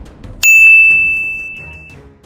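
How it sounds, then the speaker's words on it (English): A single bright bell-like ding rings out with a sharp attack and a long sustained tone that slowly decays over about a second and a half, alone against near silence. "subscribe to this channel and hit that notification bell so you don't miss the next chapter of history."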